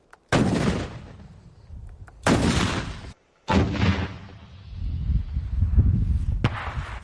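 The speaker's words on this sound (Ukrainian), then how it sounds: "І зараз буде постріл з РПГ." A loud close launcher blast, followed by further heavy booms and a rumbling roar that lingers outdoors, with a short silent gap between.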